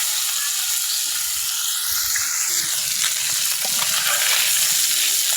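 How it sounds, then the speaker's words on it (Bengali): Small mola fish fry lightly in hot oil in a pan, a loud continuous sizzle and hiss with scattered crackles and pops throughout, no voices. "হালকা করে মাছটা একটু ভাজে নেব।"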